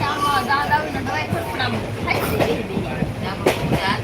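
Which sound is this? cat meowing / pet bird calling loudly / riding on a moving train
riding on a moving train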